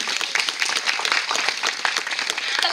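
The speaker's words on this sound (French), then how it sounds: "Vous pouvez l'applaudir encore une fois." An audience claps steadily for a parrot after its turn in a zoo bird show, a dense, continuous patter of many hands close by with no talk over it.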